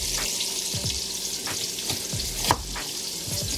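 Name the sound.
beef browning and frying in a pan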